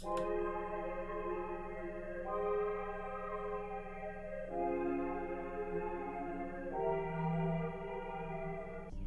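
A soft synth pad preset called Frog, processed with imager, chorus and reverb in Ableton Live, sustains a slow progression of four held chords, each change smooth and even, playing alone.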